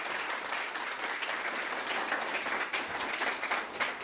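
Steady audience applause fills a Turkish radio or TV talk-show studio, a continuous dense patter of many hands clapping at even loudness throughout, with no voices rising above it.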